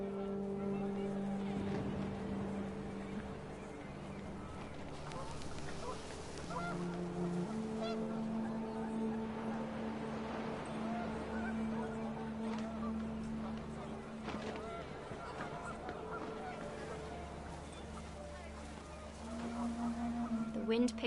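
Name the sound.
panicked geese honking, from video game What Remains of Edith Finch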